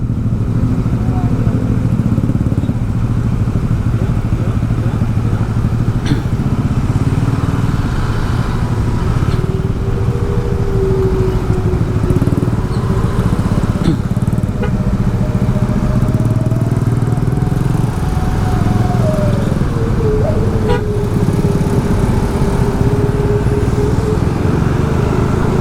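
Motorcycle engine revving hard at full throttle on a Bali road, loud and continuous throughout with pitch rising and falling, wind rush over it and occasional speech underneath.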